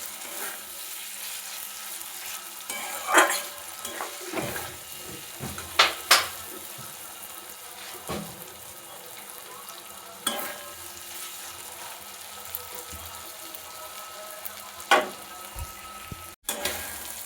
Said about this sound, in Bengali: মাংসটা আমি খুব ভালোভাবে কষিয়ে নিয়েছি বেশ কিছুক্ষণ ধরে